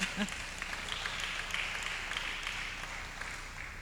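Church audience clapping at a teaching session, a moderate, fairly even patter of hands with a few louder claps standing out.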